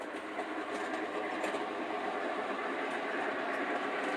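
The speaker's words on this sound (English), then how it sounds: "494 here, I'm braking now. Brake squeal." A C&O F-19 4-6-2 Pacific model train, number 494, brakes to a stop with a steady, even hiss-like squeal and faint rolling clatter at moderate volume, with no talk over it.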